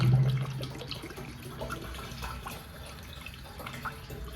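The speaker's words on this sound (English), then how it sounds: "I'm gonna pour the whole bottle in there" Liquid glugs and splashes steadily into a container, a soft continuous pour with a few drips, close by and fairly quiet.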